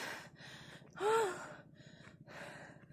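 Someone pants after walking uphill to a temple, with a few faint, rhythmic breaths and one sharper gasping intake in the middle. The breathing is close but quiet.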